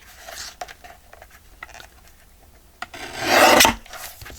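A piece of scrap journal card stock being cut makes soft rasping scrapes, mostly faint and intermittent at first, then a louder sustained rough stroke near the end, with no talking.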